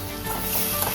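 Food sizzling and frying in a pan in an egg curry and parotta kitchen, a steady close crackling hiss with no talk.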